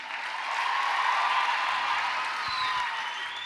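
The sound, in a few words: audience clapping hands for a couple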